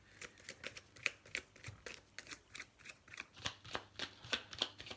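Tarot cards are shuffled in quick, steady riffles, a rapid series of crisp papery flicks and snaps repeating close to the listener with no talking.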